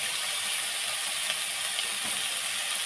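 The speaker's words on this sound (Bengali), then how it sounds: "আবারও একটু ভালো করে ভেজে নেব" Pointed gourd fries in a pan, a steady close sizzle and hiss holding evenly throughout with no talking.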